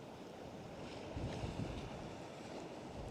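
Steady wind buffeting a DJI microphone fitted with a furry windshield on the Undercliff at St Lawrence, Isle of Wight, a constant low rumble with slightly stronger gusts in the middle and no talking.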